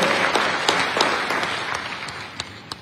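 Conference audience applauding the minister at an international mining-sector investment meeting in Dar es Salaam, a dense steady wash of clapping with a few sharper individual claps, gradually fading.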